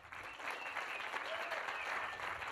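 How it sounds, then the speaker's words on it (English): An audience at an RFID chip implant party in Paris breaks into applause, a steady wash of clapping with a faint voice mixed in, fairly soft and distant throughout. "Big applause."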